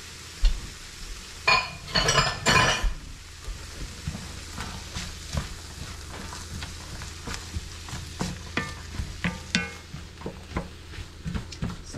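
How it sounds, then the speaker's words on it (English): Carrots being stirred into cooking mushrooms in a pan, with a loud burst of scraping and sizzling near the start, then softer intermittent stirring clinks and a steady low frying hiss. "So we stir to coat those carrots with that nice mushroomy flavor."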